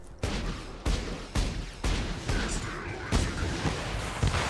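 Rocket launcher fire and explosions in Borderlands 2, a rapid series of loud, sharp booming blasts about every half second to second over a dense roaring game din.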